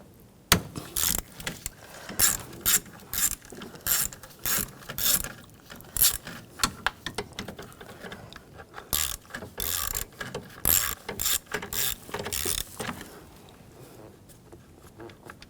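A hand ratchet clicks in quick repeated bursts while loosening valve cover bolts on a 2006-2010 BMW 550i 4.8L V8, close and metallic, with short pauses and small tool clinks between strokes.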